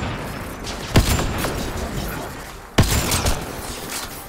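Two sharp gunshots about two seconds apart in Mass Effect Andromeda, each a loud crack with a short decaying tail over a steady ambient game background.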